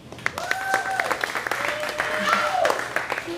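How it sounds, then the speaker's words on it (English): A comedy club audience claps on cue during a stand-up set, a sustained round of applause from a modest crowd, with a voice exclaiming over the clapping. "Clap if you're single."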